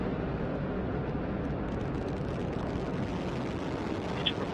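The Antares rocket at full thrust carries the Cygnus spacecraft up from Wallops Flight Facility on the NG-12 mission. The engines make a continuous broadband roar, dense and unbroken at a steady level throughout and heard from a distance.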